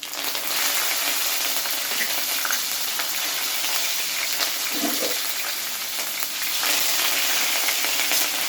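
Sesame seeds and curry leaves sizzling in hot oil over a lowered gas flame while cooking Gujarati dry potato sabzi, a steady close crackling hiss throughout with a brief bubbly burst midway.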